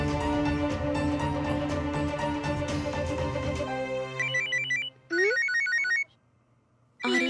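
A telephone ringtone sounds for an incoming call, a loud melodic electronic tune playing steadily, then breaking into short repeated bursts with silent gaps between them.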